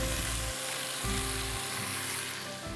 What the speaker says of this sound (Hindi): आप गोश्त को अच्छी तरह भून लीजिएगा।